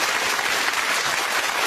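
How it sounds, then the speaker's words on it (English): Dense, steady audience applause from a TV talk-show studio crowd, loud and continuous throughout. "Give him a round of applause."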